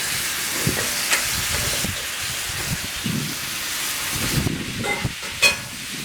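Drained beans and tomatoes frying in a hot pan give off a steady, close hiss of sizzling and steam, with a few soft clinks and stirring sounds rising near the end.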